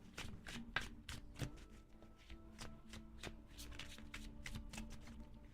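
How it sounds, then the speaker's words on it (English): Tarot cards being shuffled and pulled from the deck, a steady run of soft, close riffling and flicking clicks that repeat through the whole stretch with no talking. "Let's pull a couple tarot cards."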